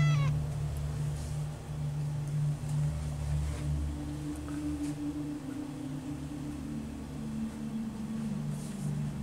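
A cat meows faintly a few times over a low steady engine-like hum, with no talking.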